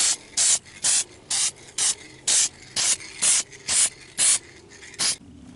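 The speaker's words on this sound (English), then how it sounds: "getting ready to put the first coat of the hammered black on the passenger airbag" Eleven short, sharp bursts of a spray paint can lay a coat of hammered black onto a car's passenger airbag cover, each hiss about a quarter second long and evenly spaced, close and loud with quiet gaps between.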